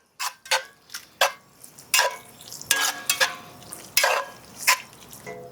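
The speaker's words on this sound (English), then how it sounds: "We're going to mix that all together." A sauce mixture with about a quarter cup of molasses is stirred in a pot, giving quick irregular scraping and clinking strokes, close and fairly soft, with no talking.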